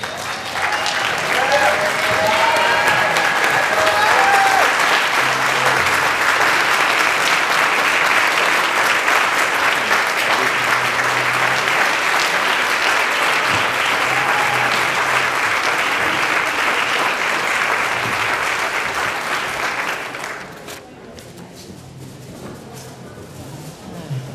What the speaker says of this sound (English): I want everyone to really stand up and give a round of applause to this gentleman